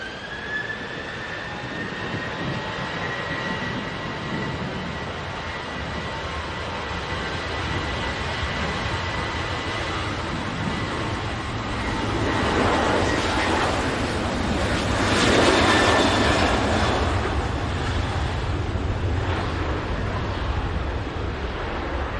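A Ryanair jet airliner bound for Billund rolls and takes off with a broad rumbling roar and thin engine whine that build to a peak midway, then hold steady, with wind buffeting the microphone.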